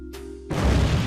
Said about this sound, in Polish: Co tak wybuchło?